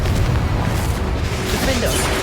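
Confringo explosion spell from Hogwarts Legacy booming through a continuous loud low rumble with bursting crackle, alongside brief voice-like tones.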